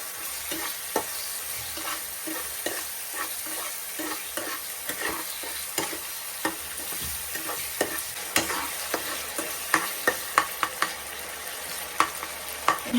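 Small chopped chicken pieces stirred in a hot pan, a long run of irregular scraping clicks and taps from the utensil over a continuous sizzle, growing busier and louder toward the end.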